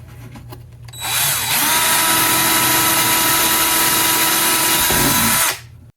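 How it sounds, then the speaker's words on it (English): A power drill boring a hole through wood, a steady, loud, high whine held for several seconds after a brief ramp-up, close by and cutting off abruptly, with no voices. "So drilled the hole, put the blade through the hole"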